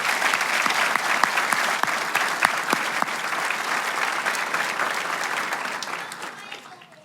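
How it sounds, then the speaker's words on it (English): Sustained applause from a large audience at a graduation ceremony fills the room, a dense steady clatter of clapping hands that slowly fades toward the end, with no one speaking over it. "Please share with me a round of applause for the people behind the scenes"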